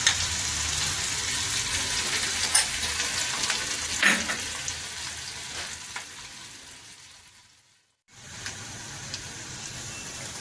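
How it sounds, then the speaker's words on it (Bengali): Onion fries in hot oil with a continuous close crackling sizzle, stirred now and then, before the sound briefly drops out near the end and resumes. "এই পেঁয়াজটি আমি এই তেলের মধ্যে মিশিয়ে দেব, দিয়ে সামান্য একটু ভাজা ভাজা করে নেব"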